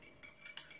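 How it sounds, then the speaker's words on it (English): A spoon clinks several times against a cup while stirring strong black coffee, faint and quick, a handful of light metallic taps in under a second. "Quick stir."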